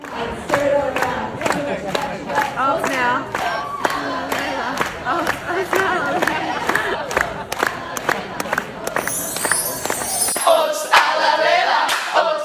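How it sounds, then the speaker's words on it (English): A studio crowd at Big Brother Australia chants and sings a house song together, loud and rhythmic with sharp claps and cheering throughout, the voices massed and close with a brief burst of whistling near the end. "Layla has the crowd singing it still to this very day"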